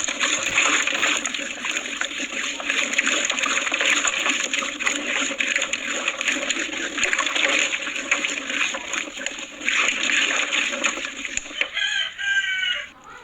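Mango jam cooking down in a pot bubbles and splutters in a continuous crackling hiss with irregular pops, then quiets near the end as a brief different sound takes over.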